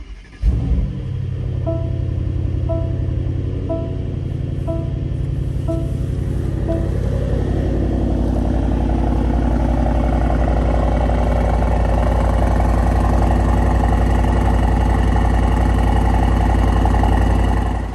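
A 2025 Mercedes-AMG GT63 coupe's twin-turbo V8 fires up with a sharp catch, then settles into a loud, steady, deep rumbling idle close by, with no talking.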